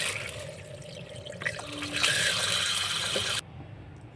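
Vegetables being washed by hand in water in a kitchen, a steady close splashing and running-water wash that swells louder midway, then cuts off abruptly near the end.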